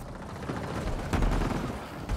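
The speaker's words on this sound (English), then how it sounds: "Just keep firing!" Sustained gunfire in the sci-fi shooter Mass Effect Andromeda, a dense, continuous fusillade of weapons fire swelling and easing over a couple of seconds, fairly loud with no speech.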